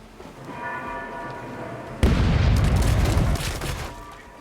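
Ship cannons in the video game Rogue Waters fire as a sudden heavy boom that rolls into a dense, roaring rumble, after a calmer stretch of background music.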